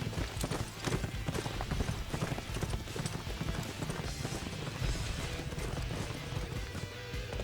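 Steady clip-clop of horse hooves at a brisk pace in the video game Dynasty Warriors 8: Xtreme Legend, loud and continuous, with an occasional faint whinny in the background.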